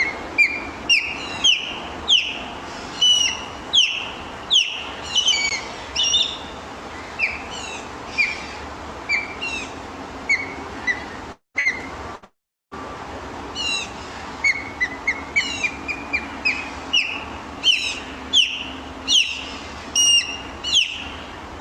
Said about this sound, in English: So that is the call of an osprey